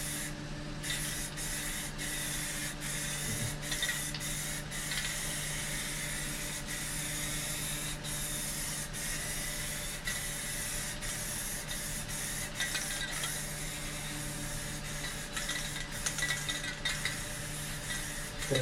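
An aerosol spray can of Rust-Oleum paint hisses steadily and faintly for a long stretch while painting a VW Beetle, with small clicks and taps mixed in; the can is running empty.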